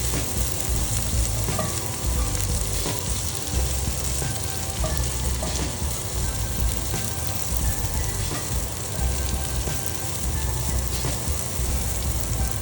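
Raisins sizzle in hot oil in a pan, a loud, continuous, close frying hiss with scattered small pops, steady from start to end, no talking.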